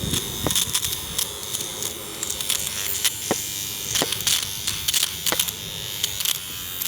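A small electric trimmer buzzes close up while cutting nose hair, a continuous whirr broken by sharp clicks and snips at irregular intervals, with no talking.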